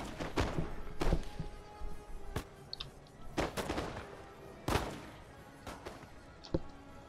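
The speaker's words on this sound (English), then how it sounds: "Get some nice shots of my men firing here" Musket volleys from line infantry in the Napoleonic-era battle game Napoleon: Total War, heard as several sharp, loud cracks and thumps spread irregularly across the span over a continuous rumble of battle, with no talk.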